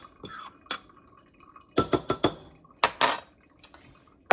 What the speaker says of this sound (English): let me give it a little mix first